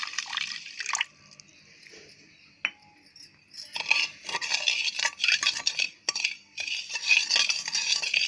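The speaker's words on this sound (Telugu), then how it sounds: "చక్కెర కరిగేంత వరకు ఇలా కలతిప్పుకుంటూ మిక్స్ చేసుకుందాం" A spoon stirs sugar into milk in a bowl, giving a near, steady run of soft scraping and liquid swirling with brief pauses and no talk.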